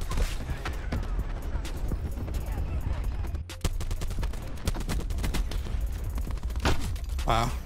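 Call of Duty Black Ops 4 firefight with dense, rapid automatic gunfire and scattered single shots running throughout, loud and close, with a brief lull midway and game noise underneath.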